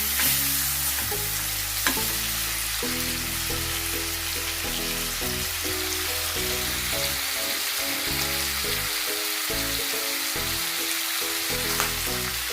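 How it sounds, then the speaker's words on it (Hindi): Marinated chicken frying in hot oil for Mughlai chicken changezi, a steady loud sizzle throughout with stirring and pan clatter on top. "क्योंकि हमने इसको फ्राई करना है जब तक का इसका कलर चेंज ना हो जाए"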